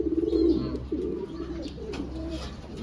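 Racing pigeons back from a north summer derby coo close by in repeated low throaty rolls, with faint chirps and background noise behind them.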